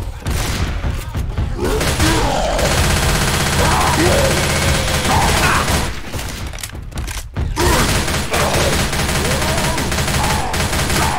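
Rapid gunfire in the Left 4 Dead 2 video game fighting a tank, loud continuous bursts with heavy booms and a couple of brief gaps, voices shouting over the din.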